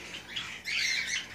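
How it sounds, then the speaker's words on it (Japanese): A silver Java sparrow chick raised by society finches gives several bright, close chirps, short calls at first and then a louder, sustained burst of peeping. "文鳥の中にシルバー文鳥が1羽いてます。"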